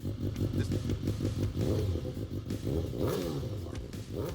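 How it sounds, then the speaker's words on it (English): BMW M1000 XR crossover adventure motorcycle with a 170-horsepower engine, running with a steady throaty drone and rhythmic pulsing, rising briefly in a rev near the middle, loud and close with no talk. "BMW decided to put their M badge on an adventure bike. Number 2. BMW M1000 XR."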